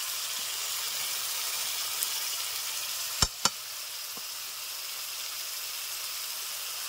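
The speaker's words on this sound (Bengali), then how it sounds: "হলুদ গুঁড়ো, মশলা ভালো করে কষে নেব" Spice paste of tomato purée, cumin, coriander, chilli powders, salt and turmeric sizzling in a pan for a Bengali prawn and green jackfruit dopiaza, a steady soft frying hiss broken by two sharp clacks of a utensil striking the pan.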